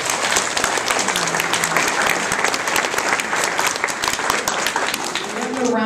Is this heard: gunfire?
no